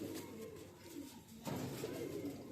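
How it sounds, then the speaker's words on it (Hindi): White-tailed fancy flying pigeons coo in a low, repeated murmur that swells louder partway through, close by, with no speech over it. "देखो भाई कबूतर"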